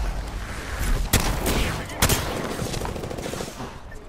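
Gunfire from Apex Legends crackles through a noisy firefight, with two sharp, loud shots standing out above a busy background of rapid bursts and action.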